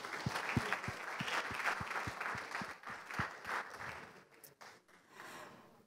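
A conference audience claps steadily for several seconds, a dense patter of hands that gradually thins and fades out, with a few voices underneath.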